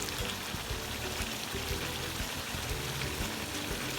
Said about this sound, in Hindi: अब इसमें डालेंगे हम दही और हरी मिर्चें।